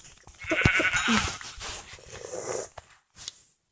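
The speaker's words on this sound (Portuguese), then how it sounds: "E eu já chamo a ovelha aqui, ó." A sheep bleats in a video game: a wavering animal cry near the start, then scattered clicks and softer sounds, with no talking.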